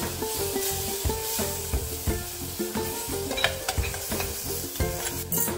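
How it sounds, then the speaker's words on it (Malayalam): Blended tomato sautéing in a pan for Kerala-style rasam, with steady sizzling broken by repeated stirring scrapes at a brisk rhythm, close and fairly loud with no talk. "അതൊന്ന് വഴറ്റി കൊടുക്കാം."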